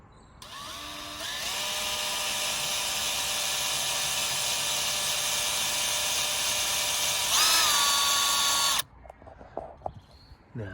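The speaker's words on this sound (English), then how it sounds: "Now I've just drilled through here, just an 8mm hole for now" Power drill boring an 8mm hole through a Land Rover Freelander 2 bumper, a loud sustained high whine that rises in pitch briefly near the end, then stops abruptly, followed by faint handling noises.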